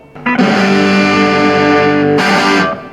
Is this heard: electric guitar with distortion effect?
yes